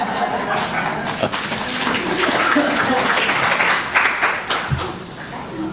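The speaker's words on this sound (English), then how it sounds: "The offertory got an applause." A church congregation breaks into applause after the offertory, a dense patter of hand clapping that rises and holds steady for several seconds before thinning slightly at the end.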